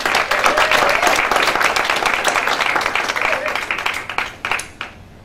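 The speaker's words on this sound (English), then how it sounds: "Let us give them a round of applause." An audience at an awards event applauds with dense, sustained clapping that gradually thins into scattered individual claps before fading out.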